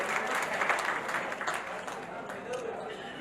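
An audience at a large free charity camp in Mumbai applauds loudly and steadily, a dense wash of clapping that fills the whole stretch and fades a little toward the end.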